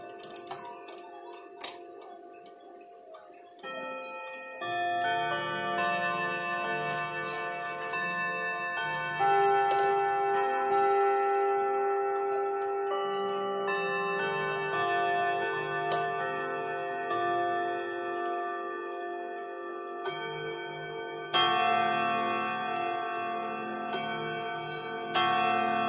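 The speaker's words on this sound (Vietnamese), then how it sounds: "tiếng chuông nhẹ nhàng thánh thót vang" Odo 36 wall clock with a steady ticking, then a run of clear, ringing chimes that keep sounding and layering for most of the stretch, with a fresh strike near the end.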